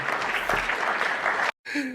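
Steady applause plays for about a second and a half, then cuts to silence and gives way to a brief different sound with a low tone.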